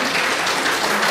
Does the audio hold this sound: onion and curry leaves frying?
no